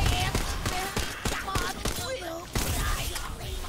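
Full-auto gunfire in the video game Tiny Tina's Wonderlands, a fast steady stream of sharp shots running through the whole stretch while a person talks over it.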